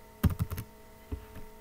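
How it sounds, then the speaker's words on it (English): Quick burst of keystrokes on a computer keyboard while coding in an IDE, a cluster of close clicks followed by one lone tap, fairly quiet with no speech. "so if I start typing"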